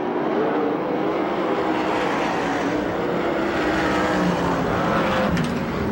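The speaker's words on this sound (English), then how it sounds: "look at Sherman in that 0 car working the bottom" USAC sprint cars race on the Perris dirt track in California, a loud, continuous engine roar from the pack with pitch rising and falling as the cars sweep past, sustained throughout without pause.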